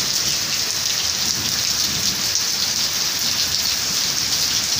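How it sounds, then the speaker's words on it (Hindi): Heavy early-morning rain at about 5:30 falls in a steady, dense hiss with no gaps, loud and close, with no voices over it. "और देखिए कितनी बारिश लगी है बड़ी ज़्यादा।"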